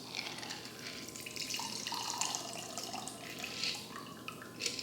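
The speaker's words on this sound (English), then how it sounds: "strain that into your presentation glass." A lavender lemon shandy cocktail mixture is strained into a rocks glass, a close, continuous trickle and pour of liquid with small splashes, and no one speaks.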